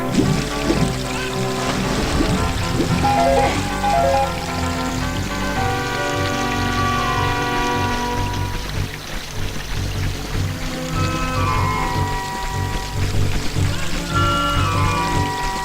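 A strong water current in The Legend of Zelda: Ocarina of Time Master Quest, a continuous rushing, pouring flow blended with layered game music throughout.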